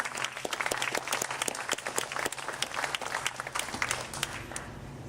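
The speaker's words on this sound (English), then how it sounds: "how about a special round of applause for Pat and Grace and all the military nurses" Audience applause at an Independence Day celebration honoring military nurses, a dense, steady burst of many hands clapping that holds at full strength for about five seconds.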